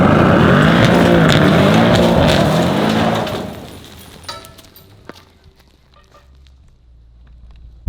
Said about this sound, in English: doing a burnout in your own driveway